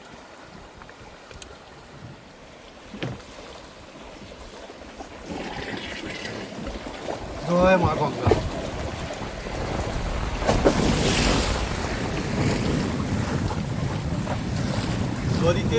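A fishing boat heads out on the Garal river under stormy skies, with gusting wind buffeting the microphone and waves splashing. The wind and water rise after a quieter opening, and a man briefly calls out early on.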